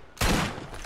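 A single loud shotgun blast fired in the video game Borderlands, its sharp boom decaying into a lingering roar, with no voices.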